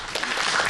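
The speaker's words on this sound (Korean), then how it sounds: "좋은 말씀 해주신 우리 이 대표님께 박수 부탁드립니다" Brief burst of studio audience applause for a guest on a science TV program, a dense even patter of clapping heard alone.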